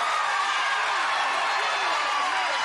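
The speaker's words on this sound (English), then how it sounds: "Listen to this crowd." A large crowd at an American Ninja Warrior qualifying course in Dallas roars continuously, a dense, loud wall of cheering and shouting with excited voices ringing through, filling the arena without pause.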